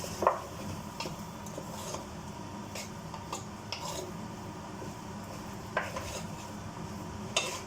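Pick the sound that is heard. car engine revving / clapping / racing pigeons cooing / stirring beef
stirring beef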